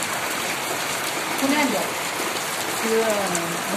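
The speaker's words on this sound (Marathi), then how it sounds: "बघ पाऊस येते" Rain falls in a steady, close hiss of drops on surfaces while people talk over it.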